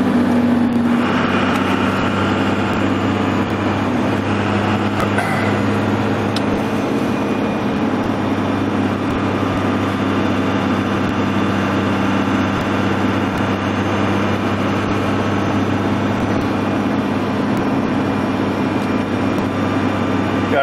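A 2002 Dodge cruises at a steady 65 mph, giving a continuous, even low engine drone and road hum from inside the cab, with no voices over it.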